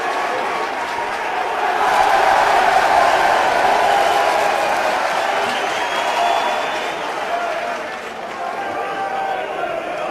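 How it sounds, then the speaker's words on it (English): A large crowd at a Harlequins v Leeds rugby league cup match roars in a sustained cheer, swelling and holding steady across the stand with a constant broad wash of noise. "That's got the biggest cheer of the day"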